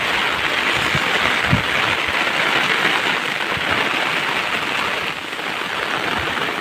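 Steady rain falls continuously for the whole stretch, a close, even hiss of drops hitting surfaces with occasional louder taps, and no one speaks.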